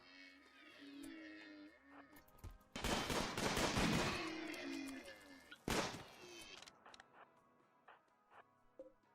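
Video game gunfire during a defense against an incoming swarm, a burst of rapid automatic shots with a couple of loud separate cracks, among chirpy game effects and faint speech.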